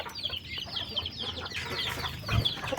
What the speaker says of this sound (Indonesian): Ayam pun sedang bercengkerama mencari makan.